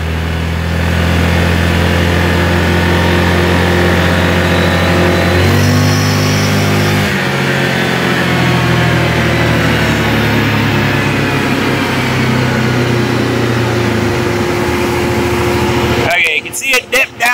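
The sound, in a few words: Yamaha Grizzly 700 ATV engine running near idle to quarter throttle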